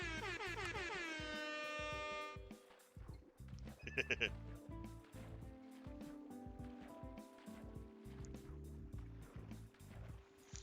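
A blaring MLG air horn sound effect starts loud and sustained, then drops away into a jumble of noisy bursts with a voice talking throughout.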